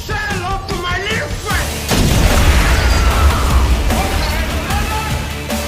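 Heavy, sustained gunfire from heavy weapons in a gangster film, deep booming bursts and dense crackling, loud and chaotic, following a stretch of tense mixed sound.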